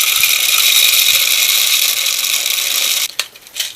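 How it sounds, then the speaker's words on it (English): An Echo 1 M4 high-capacity airsoft magazine being wound by hand gives a dense, continuous ratcheting clicking close up, running steadily for about three seconds before stopping and leaving a few faint clicks. "and then you wind the magazine"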